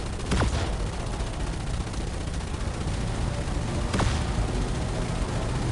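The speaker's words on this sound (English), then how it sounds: "Like flak cannons is basically what this reminds me of." Flak-cannon-like gunfire in the Elite Dangerous space game, two sharp blasts about three and a half seconds apart over a constant dense rumbling roar of weapons and engine noise.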